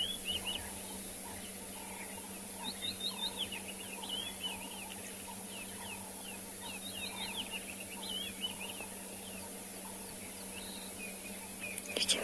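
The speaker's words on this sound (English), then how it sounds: "You can hear the lovely birds." Wild birds call in the South African bush on a morning safari, with repeated faint chirps and twitters from a distance over a constant hiss of insects and background noise.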